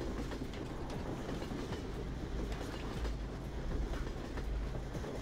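Steady rumble of a moving train in Hunt Down The Freeman, low rolling wheel noise with light repeated clacks, continuous and even throughout.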